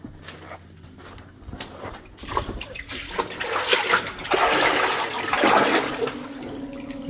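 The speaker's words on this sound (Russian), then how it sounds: "здесь вода течет" Water running through a flooded mine adit leading to the bottom of the Tuim sinkhole, a steady rushing flow with splashing that swells louder partway through, close by and without speech.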